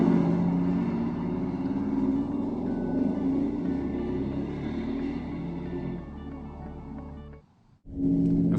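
A 2013 Mercedes-Benz G63 AMG engine pulls hard out of a corner, a loud, steady, rising growl held for about seven seconds before it cuts off briefly and then roars back in.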